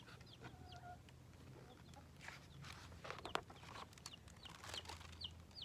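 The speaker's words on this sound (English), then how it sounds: "These are the ways that chickens sing." Hens cluck and a rooster crows in a farmyard, with busy overlapping calls and short bursts scattered over a steady low background murmur.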